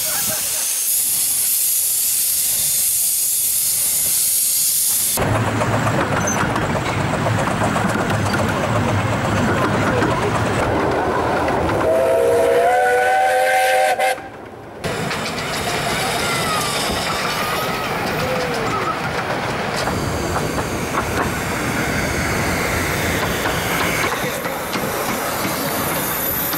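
A steam train hisses loudly and continuously, with a brief whistle rising midway and the rumble of the engine and cars rolling along.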